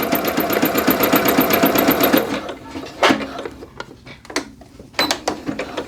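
A sewing machine stitches the crotch seam of joggers in a fast, even mechanical chatter for about two seconds, then stops, followed by scattered handling clicks and rustles.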